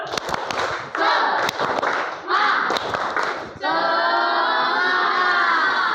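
A classroom of students in an Islamic religious education lesson claps in a quick rhythmic pattern with shouts, then breaks into a sustained, loud group chant; the sound is close and fills the room.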